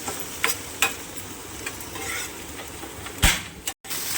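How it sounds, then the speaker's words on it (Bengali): Onion frying in oil in a home kitchen pan, a soft continuous sizzle broken by a few stirring scrapes and one louder clatter near the end, with no voices. "এই পেঁয়াজটা ভেজে নেব, একটু হালকা করে ভেজে বাটবো পেঁয়াজটা"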